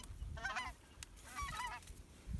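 Geese honking during a goose hunt, two bursts of nasal calls from a small flock at moderate distance, fairly faint over a low rumble of wind.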